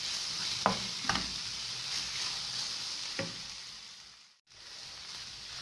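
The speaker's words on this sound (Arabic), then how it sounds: "دابا غادي نزيد طريفات ديال الدجاج نخليهم يتشحروا مزيان" Small pieces of chicken browning in a pan with softened leek for a quiche filling: a steady close sizzle, interrupted by a few light scrapes of stirring, then a brief dip in the frying noise.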